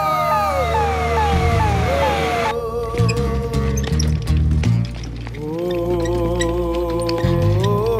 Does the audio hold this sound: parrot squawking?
no